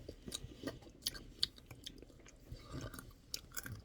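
Ice cream with almonds is chewed close to the microphone, with soft irregular crunches and bites scattered through it, faint and unaccompanied by talk.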